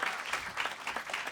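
An audience applauds steadily in a live radio studio session, a brief burst of dense clapping with no voices over it.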